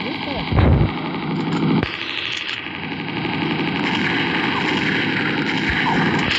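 Gunfire from the mobile video game Mini Militia rattles in bursts and booms beneath excited talking, mixed with a constant electronic game drone.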